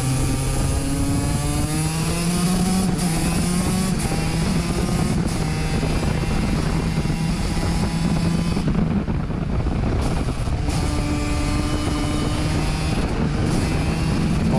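KZ2 kart engine screaming through a lap at the Pau-Arnos circuit, a loud, close, high-revving two-stroke whine rising and falling with gear changes and throttle lifts, no talking.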